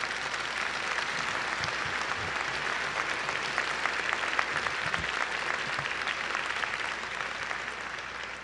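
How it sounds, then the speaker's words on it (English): A large law school commencement audience applauds graduates' families, a dense and sustained wash of clapping that stays steady and loud throughout, heard from within the hall with no speech over it. "Please give them a big round of applause."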